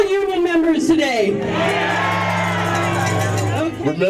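Union members at an outdoor rally cheer and shout in a loud sustained roar, with whoops and yells layered over crowd babble, close and continuous before fading slightly at the end.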